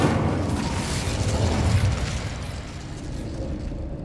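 Incendio fire spell cast in Hogwarts Legacy, a loud, deep whooshing burst of flame that rumbles heavily and then tapers into a softer roar.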